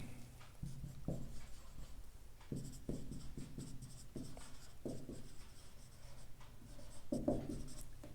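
A slope formula is written on a board during a calculus lecture, with steady, close tapping and scratching strokes in short bursts against a quiet room hum.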